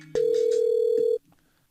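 A smartphone call tone plays through computer speakers: one steady, loud electronic tone holds for about a second and then cuts off abruptly, with a faint bit of background sound before and after it.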